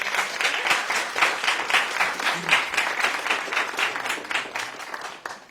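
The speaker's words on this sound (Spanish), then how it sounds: "Les agradecería que les brindemos un aplauso, por favor." An audience at an academic panel on electrochemical water treatment claps steadily, a moderately sized crowd whose individual claps are distinct and evenly spread, fairly near and uninterrupted.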